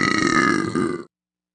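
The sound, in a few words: big burp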